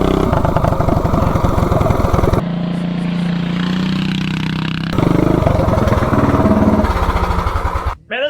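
A 420cc big block minibike engine with a torque converter revs hard and accelerates, loud and close, easing to a steady lower drone in the middle before roaring up again and cutting off abruptly at the end.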